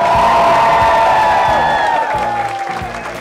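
Studio audience applause at a TV game show, loud and sustained clapping with cheering, mixed over a held musical tone that fades slightly toward the end.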